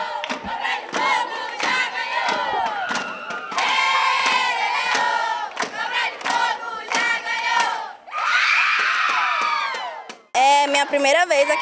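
Children at a gincana at Centro São Francisco de Assis shout their team war cry together, loud rhythmic crowd chanting with bursts of cheering and whoops.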